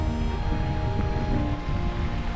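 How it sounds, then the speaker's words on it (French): A large waterfall in the Irish mountains near the Gleniff Horseshoe sends out a constant, dense rushing roar with no pauses, blended with some wind buffeting and no voices. "Une énorme cascade là-bas."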